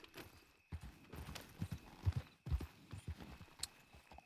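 Horse hooves clop along at a walking pace in the video game Red Dead Redemption 2, a soft uneven rhythm of hoof strikes on a hard surface, fairly close, with no talking.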